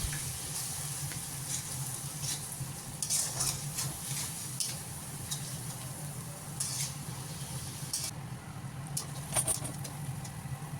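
Ginger, garlic and onion fry in a pan for chicken curry, a low steady sizzle with occasional stirring scrapes and pattering crackles, close and fairly quiet throughout.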